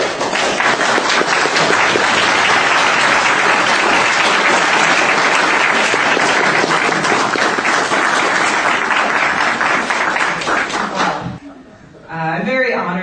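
A big audience applauds a keynote speaker at a conference, a loud, dense wall of clapping that runs steadily for about eleven seconds before fading, with a voice starting to speak at the end.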